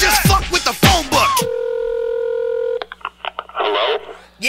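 Touch-tone telephone number being dialed after a rapped line, a quick run of beeping keypad tones followed by a steady dial-like tone, then scattered clicks and a voice returning at the end.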